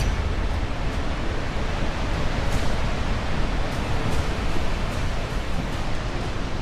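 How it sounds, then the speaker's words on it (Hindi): Glacier floodwater at Vishnuprayag in Chamoli, Uttarakhand, gives a dense, constant roar of rushing water, loud and unbroken throughout, with no voices. "पानी के इस शोर से तबाही का अंदाजा आप लगा सकते हैं।"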